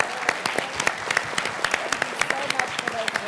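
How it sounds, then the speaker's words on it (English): An audience gives a steady round of applause, with dense, even clapping filling the room throughout. "we want to give a round of applause to our"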